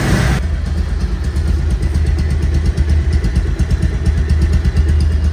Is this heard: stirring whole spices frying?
no